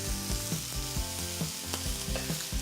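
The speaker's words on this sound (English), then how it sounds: "As you can hear the frying." A steak sizzles in hot oil in a Stargazer frying pan, a steady close crackle and hiss with faint scraping and stirring noises on top and no voices.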